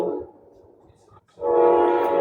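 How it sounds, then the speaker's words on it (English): A train passes close by with a loud, sustained horn blast that breaks off briefly and then resumes, heavy rumbling underneath throughout. "Let this train go by."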